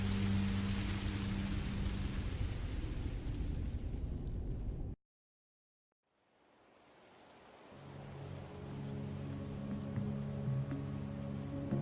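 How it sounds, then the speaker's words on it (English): Rain in Minecraft: Story Mode pours as a dense, loud hiss that cuts to silence, then fades back in gradually to a steady downpour. "I didn't know it would rain."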